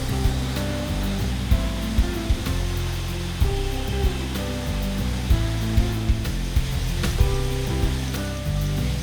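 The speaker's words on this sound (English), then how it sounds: "Thousands of bottles move on this line." Champagne bottles travel along a bottling line, a dense mechanical rumble and whir with scattered glassy clinks and knocks repeating throughout.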